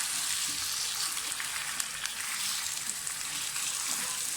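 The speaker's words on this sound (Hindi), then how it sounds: "चिकन को फ्राई कर लें।" Chicken frying in a kadai for an Afghani chicken gravy, a continuous bright crackling sizzle with small pops throughout, moderately quiet and free of speech.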